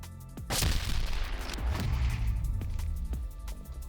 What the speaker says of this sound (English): If not, you will cause a massive explosion as shown here.